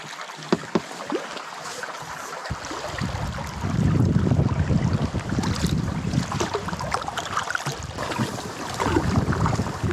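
Strong wind buffets the microphone on a river in Lapland during a packrafting trip on the Ivalojoki, with water and paddling noise. It is a loud, continuous rush that strengthens after a few seconds, and no one speaks.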